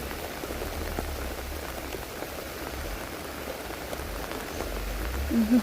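Heavy rain pours down outdoors in rural Thailand, a steady, fairly faint hiss of drops on surfaces with low rumble beneath, continuous throughout with no voices.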